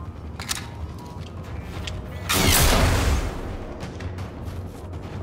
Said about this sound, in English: That was an explosion of some sort.